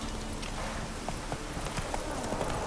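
Horse hooves clip-clop steadily in The Witcher 3, a continuous trotting rhythm held under a dense bed of game sound and background noise.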